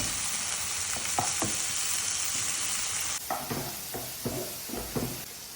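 Tomatoes sauté in a pan for Kerala-style fish head curry, giving a continuous close sizzle and then quieter frying broken by several stirring scrapes and taps.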